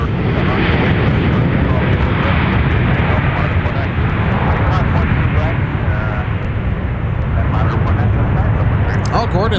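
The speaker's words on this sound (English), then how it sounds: "So Delta 9761 that we just saw take off for Los Angeles" Delta passenger jet taking off from MSP airport in a continuous, loud, broad engine roar with a rumbling low end, sustained without a break; faint chatter sits beneath it.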